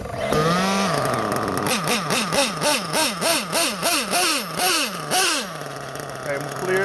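Nitro engine of an RC car with a glow plug being cranked, sputtering in a rapid run of about ten rising-and-falling revving bursts before settling to a steady idle, loud and close.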